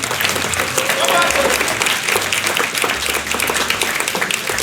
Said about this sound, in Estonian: teeme lärmi, teeme aplausid